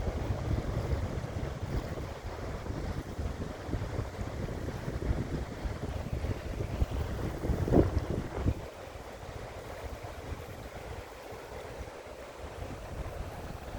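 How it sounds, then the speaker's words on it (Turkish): Wind buffets the microphone over a continuous rumble of Caspian Sea waves on the shore at Baku, loud and steady, easing slightly toward the end. "Bu da ki Xəzər dənizi"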